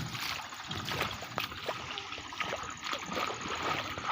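Rainwater flows and trickles steadily through a flooded cotton field, a continuous near watery rush with small splashes throughout.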